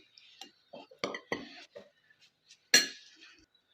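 A spoon clinks and scrapes against a bowl while pakoda masala ingredients are mixed, giving a few sparse, sharp metallic taps with quiet gaps and one louder knock near the end.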